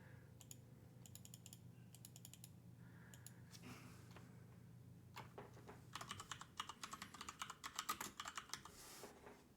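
Keys clatter on a computer keyboard in bursts of quick typing, with pauses between runs and a denser, louder flurry of taps toward the end, close and alone.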